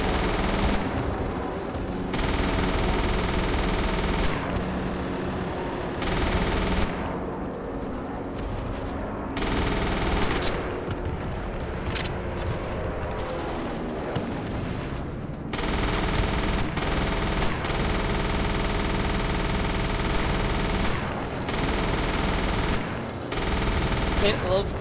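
An MG42 machine gun fires in a 1944 beach-invasion video game, with loud, dense bursts of rapid gunfire lasting several seconds each. Short gaps separate the bursts, and other battle noise fills in around them.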